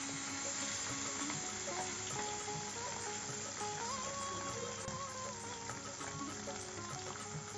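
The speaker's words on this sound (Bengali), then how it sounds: "তেলটা গরম হয়ে গেছে, এখন মাছগুলি দিয়ে দিচ্ছি।" Chela fish sizzling and crackling in hot mustard oil, a steady, quiet frying hiss that runs throughout with no pauses.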